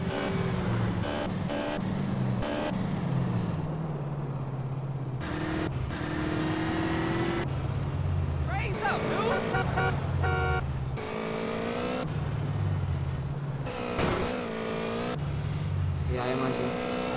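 A car driven in a video game, its engine droning and revving steadily throughout with shifting pitch and occasional tire squeal, while a person talks over it.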